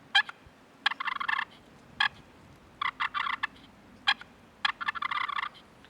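Turkey gobbling and clucking imitated on a push-pull turkey call, slow short bursts of raspy yelps repeated in clusters, fairly close and alone with no talk.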